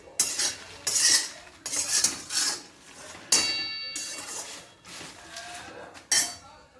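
Green chickpeas are stirred and scraped in a pan on a gas stove, with a run of close, rhythmic metallic scrapes and rattles of moderate loudness and no talking.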